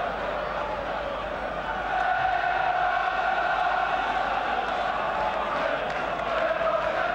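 A large football crowd at Aston Villa's stadium in the West Midlands during a match against Arsenal, heard as a continuous, distant roar of murmuring voices that swells slightly partway through.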